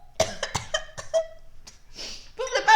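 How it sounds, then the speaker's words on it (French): A person coughs in a quick run of harsh, close coughs, then a breathy pause and a few more coughs mixed with throat noises. "Pourquoi je tousse comme ça?"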